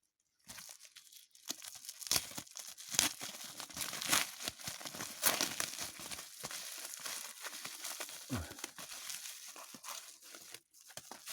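Parcels from China holding motion sensors are torn open, with close, busy crinkling and crackling of plastic packaging and sharp ripping bursts that continue steadily throughout without talk.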